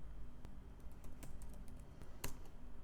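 Someone types a multipass mount command on a computer keyboard, scattered soft key clicks with a couple of sharper presses, close but faint over a quiet background hum, no talking.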